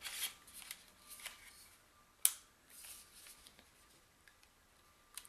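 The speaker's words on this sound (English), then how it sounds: "Let's have a look, see, and slide them in. That satisfying click sound." Nintendo Switch Joy-Con controllers slide onto their rails with light plastic rustling and scraping, then lock in with one crisp, close click, followed by faint handling ticks.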